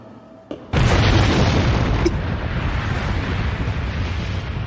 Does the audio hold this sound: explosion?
yes